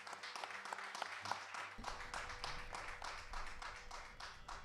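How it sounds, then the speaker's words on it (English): Applause from a seniors group audience at a music recital, a fairly quiet patter of many hands clapping steadily with a faint tonal hum underneath, no talk. "let's give her a big round of applause"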